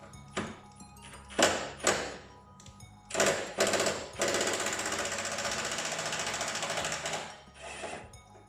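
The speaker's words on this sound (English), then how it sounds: "My trusted friend impact drill." An impact drill buzzes and rattles in several short bursts and then one longer run while removing 10mm bolts on an EP82 Toyota Starlet, close and fairly loud, with clunks of tools between the bursts.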